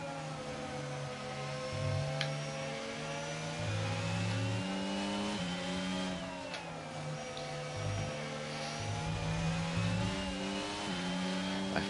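F1 race cars, a Ferrari and an Aston Martin, scream through the Monza circuit in a racing video game, with high-pitched engines revving and shifting gears, sustained and close, with no talking.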